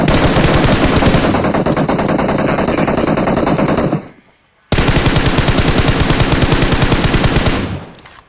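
Sustained machine gun fire in PUBG Mobile hammers out as a loud, continuous rapid burst, cuts off briefly to silence, then resumes with another long close-range volley before stopping.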